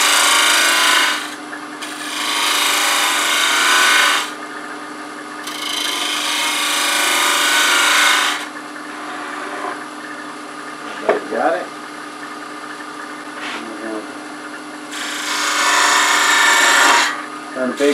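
A wooden baby rattle spins on a lathe as a tool rounds it off, giving loud rasping cutting bursts that start and stop between quieter motor hum, with occasional taps and scrapes.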